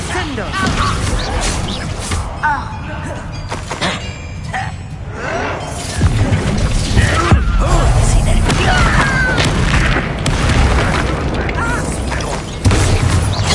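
Repeated blasts of the Confringo fire spell in Hogwarts Legacy on PS5, loud booming explosions and crashing debris mixed with combat effects and voices speaking throughout.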